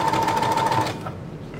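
A sewing machine backstitches ribbon onto a tutu, a close, fast mechanical whirring burst lasting under a second before settling into quieter room noise.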